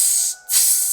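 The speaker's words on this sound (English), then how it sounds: "Every time his feet step on the metal, you hear sizzling of heat as the smell of sulfur permeates behind." Sizzling hiss of hot metal as feet step on it, loud and steady, cutting out for a brief moment midway before resuming.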